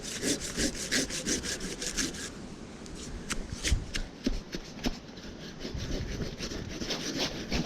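Rhythmic back-and-forth strokes of a hand saw biting through a log, fast and steady at first, then slower and more uneven, close by.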